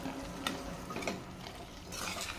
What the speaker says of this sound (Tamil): சேர்த்துட்டு நல்லா மிக்ஸ் பண்ணி விட்டுக்கோங்க.